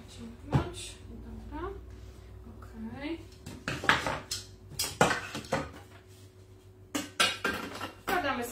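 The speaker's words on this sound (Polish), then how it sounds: "Następnie umieścić ponownie naczynie miksujące w obudowie urządzenia Thermomix." Thermomix mixing bowl set back into the appliance housing, giving hard plastic and metal clunks and clatters in a kitchen while someone talks.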